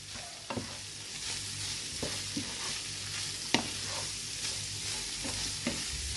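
Chopped onion for a samosa filling sizzles steadily in a hot pan while a spoon stirs it, with soft scraping and occasional knocks against the pan, close and clear.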